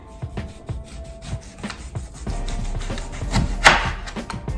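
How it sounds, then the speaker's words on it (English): A knife draws through a lemon on a board, sliced for garnish on haddock piccata, giving close, repeated soft rasping cuts with small knocks, steady and alone. "I'm going to slice first some lemon for the decoration on top of the haddock piccata"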